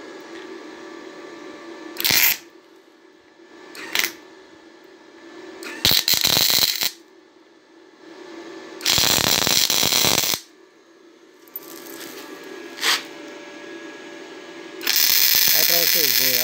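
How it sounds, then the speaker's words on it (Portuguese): A MIG welder lays weld onto a tube fitted over a broken bolt in a repair shop, giving sharp, crackling buzzes in separate bursts of one to two seconds with quiet gaps between them, close and loud. "Aqui tá minha maquinazinha de solda, solda MIG. E aí nós vamos encher ele aqui dentro."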